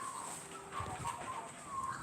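Birds call outdoors, a few scattered chirps and short whistled notes that are fairly faint over steady background noise, with no talking.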